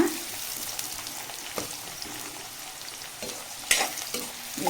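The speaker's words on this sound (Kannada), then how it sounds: "ರೋಸ್ಟ್ ಆಗೋವರೆಗೂ ಫ್ರೈ ಮಾಡ್ಕೊಂಡ್ಬಿಡೋಣ." A medium onion fries in a pan for a spicy green chicken dry, sizzling steadily while a spatula stirs and scrapes now and then, close and without speech.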